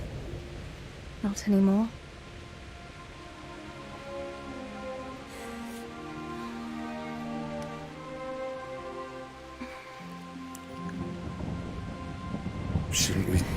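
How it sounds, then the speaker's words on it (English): A thunderstorm with rain in Kingdom Come: Deliverance: steady rain hiss runs throughout, with a brief loud rumble near the start and swelling noise at the end, while voices and gentle music play over it. "Not afraid of thunderstorms, are you?"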